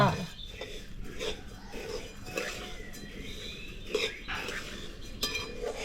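Raw rice stirred and dry-roasted in a pan for crispy rice-flour bor, soft scraping and light clinks of a spatula against the pan, close and fairly quiet, with a voice talking over it.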